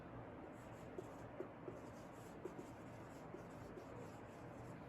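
Chalk or a marker writes a definition on a board, producing quiet, brief taps and strokes in an irregular rhythm over a soft room hiss.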